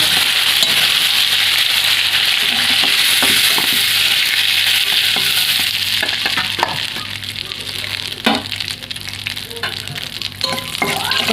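Shrimp fry in hot oil in a pan for a begun chingri dish, a steady close sizzle and crackle with occasional sharper pops and scraping stirs, continuing without any talking.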